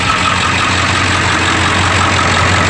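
A 1999 Ford F350 Lariat 4x4 with a 7.3 diesel engine idles loudly and close by, a steady, rough low rumble with a faint knocking texture and no talking.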